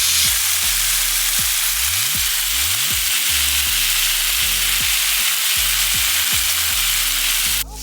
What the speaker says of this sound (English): flip my steaks over so I can grab a hold of this. Ooh, okay, so that's pretty seared.